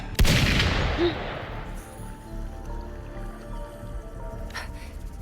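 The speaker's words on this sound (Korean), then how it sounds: "총소리." A single loud, sharp gunshot in the video game Wuthering Waves cracks out at the start and its echo rings away slowly, leaving a low rumbling ambience and a faint later clatter.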